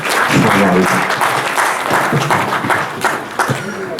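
An audience applauds at the opening of an international academic conference, steady dense clapping filling the whole stretch, with a voice briefly audible over it.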